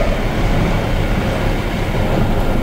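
Locomotive slowing to a stop in the Trainz Simulator 12 game, Indian Railways shunting duty, a loud continuous rolling rumble with wheel and rail noise throughout, no voices.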